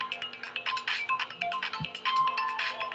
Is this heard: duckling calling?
no